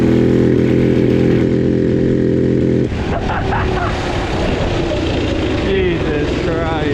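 The engine of a $100 minibike with a governor drones loudly and steadily while it is ridden. The tone shifts partway through, with wind and rumble mixed in, and a voice is heard over it.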